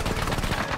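Loud gunfire from a .50 caliber rifle in an animated show bursts in a rapid, dense volley of shots lasting under a second.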